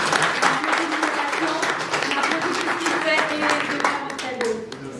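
An audience at a press conference at the Casino de Paris claps warmly for an artist, steady close applause with scattered voices and cheers mixed in.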